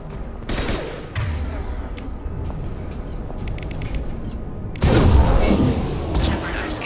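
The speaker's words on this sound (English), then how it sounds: "Firing an impact shot!" Impact shot fired in the Mass Effect 2 video game: a sudden heavy blast near the end, loud and close, following a steadier stretch of combat noise and gunfire.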